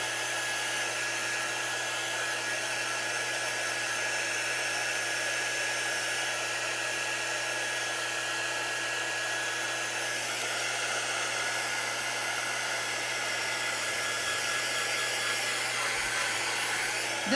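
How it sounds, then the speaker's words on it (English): A handheld quick-dry blower tool pushes air over a freshly painted craft sign, a steady loud whirring hiss held unbroken for about seventeen seconds, with no talking. "This is our quick dry tool. It blows air so that it dries quickly."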